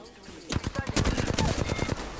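Rapid gunfire bursts crackle during an Apex Legends ranked match, loud and dense for about a second and a half before easing off.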